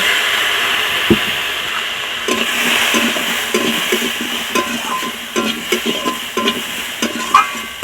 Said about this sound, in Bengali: এখন আমি লঙ্কার গুঁড়ো দিয়ে দিচ্ছি আর তার সাথে জল দিয়ে দিচ্ছি